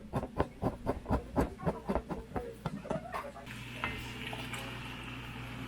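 Garlic and herbs being stirred into a pot of lentil soup with vegetables, a close rhythmic series of scraping, knocking spoon strokes that gives way to a soft steady sizzle.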